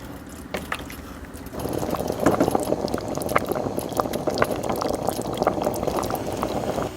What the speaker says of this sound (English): simmer it covered for 20 minutes.